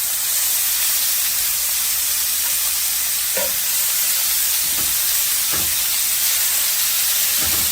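Shrimp cook in a pan for an orange glaze, giving a steady, loud broadband sizzle throughout, broken by a few brief sharper pops and spatters.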